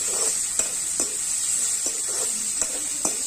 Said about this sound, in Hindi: अब डाल देंगे हमारा कटा हुआ प्याज। इसे हल्का लाल होने तक तलना है